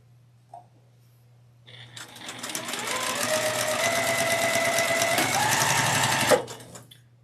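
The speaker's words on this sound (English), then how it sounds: "I'm going to take HST2 and I'm going to sew it to square B1" Sewing machine stitching a half-square triangle unit to a square quilt block, running steadily and close for several seconds after a brief start, with a low mains hum underneath.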